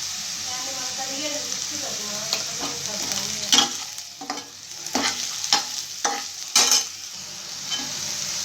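Onions fry in oil in a pan, heading toward golden for a chicken cornflour fry, with a soft steady sizzle broken by repeated scraping stirs of a spatula up close.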